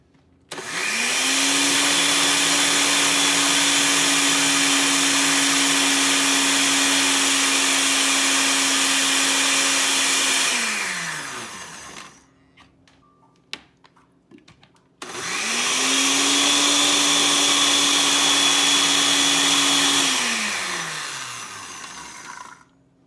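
A blender grinds fresh cilantro chutney with lemon juice in two loud, sustained bursts of about eleven and six seconds. Each burst spins up and winds down with a steady motor whine, separated by a short pause of faint rattling.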